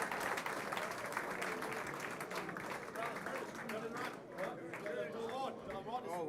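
Applause and clapping from an awards-ceremony crowd for the Rookie of the Year winner, steady and sustained throughout, with voices and chatter mixed in over the clapping.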